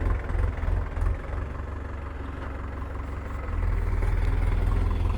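A Massey Power Trac Euro 7 tractor engine idling, a steady low diesel rumble throughout, growing slightly heavier and louder in the last couple of seconds.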